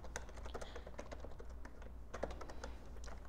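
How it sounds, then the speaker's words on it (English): Fast, light typing on a computer keyboard, quiet and close, with irregular clusters of key clicks and short pauses, no speech. "I just can't type."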